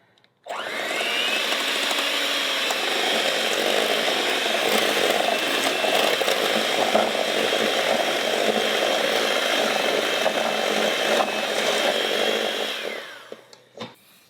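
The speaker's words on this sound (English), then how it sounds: "We're going to whisk this together." An electric mixer or whisk blends Greek yogurt and vanilla extract for lemon-blueberry sourdough muffins, running as a steady loud motor whir for about twelve seconds before winding down, with no talking.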